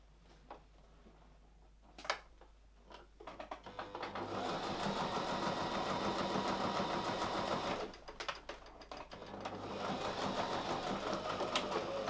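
A sewing machine runs a back stitch in two short bursts of rapid, steady needle chatter, close and clear, separated by a brief pause and a few quiet clicks.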